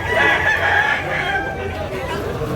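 A handsome choco-colored bullstag rooster lets out one loud, strained crow that trails off, with a little chatter in the background.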